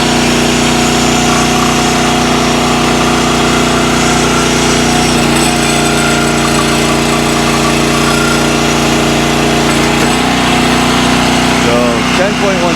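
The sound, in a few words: Countyline log splitter engine running cylinder cycle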